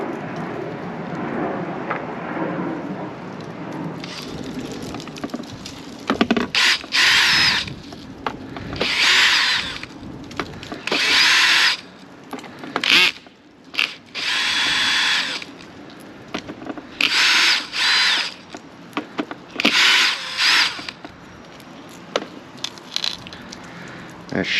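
A power screwdriver or drill backs screws out of an Arrma Outcast EXB RC car chassis in a run of loud, whirring bursts of a few seconds each, separated by short pauses and quieter handling.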